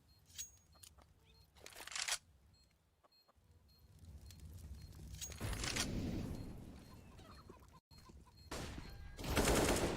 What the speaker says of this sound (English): Dropping down, Twist with a headshot